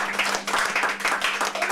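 Audience applause at a local gathering, a dense, fairly close patter of many hands clapping, steady for a brief stretch.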